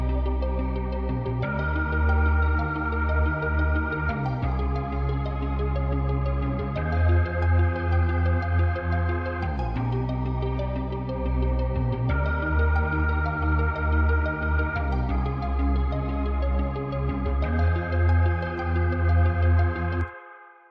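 Dark, moody synth melodies layered from Omnisphere in a hip-hop beat, sustained chords and melodic lines playing continuously and loud with a steady rhythmic pulse, no voices.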